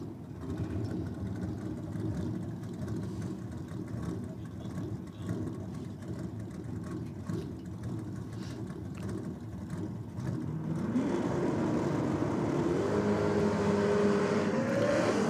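Race cars, one of them a Cortina, rumble and accelerate in a continuous engine roar that swells louder near the end, with a rising pitch sweep as a car revs up, heard without talk.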